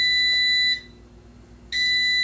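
A kitchen air fryer sounds two sustained electronic beeps, each roughly three-quarters of a second long, separated by a short quiet gap, loud and close with no voices.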